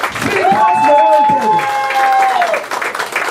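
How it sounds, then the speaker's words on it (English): Crowd applause swelling at a New York open-mic political event, steady clapping and cheering for about two seconds, with a voice speaking over it before fading. "Let's give him a round of applause"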